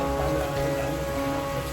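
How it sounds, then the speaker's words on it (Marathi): Heavy rain pours down steadily and loudly on the road toward Raigad fort during a scooter trip in the mountains, a dense continuous hiss with no talking. "पाऊस खूप भारी आहे."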